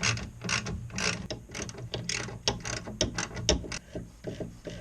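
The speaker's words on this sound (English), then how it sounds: "Now just to torque those babies down as well." Ratchet wrench tightening bolts on a Pontiac Fiero headlight assembly: a close, rapid run of sharp clicking pawl strokes in uneven bursts, with no talk.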